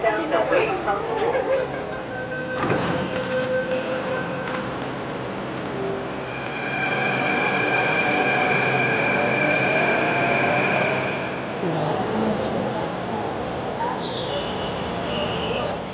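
Heavy road traffic in Delhi makes a steady, dense roar with engines and a rumble that swells and eases, while people talk nearby over it.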